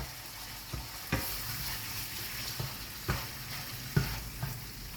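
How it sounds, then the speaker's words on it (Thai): Eggs fry in a pan for shrimp fried rice, a constant sizzle with a few distinct scrapes and knocks of a utensil stirring them, close and moderately loud, with no talking. "คนไข่กันหน่อยนะครับ"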